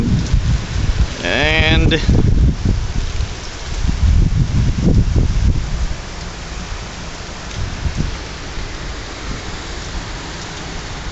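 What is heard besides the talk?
heavy rain from a microburst rainstorm in Phoenix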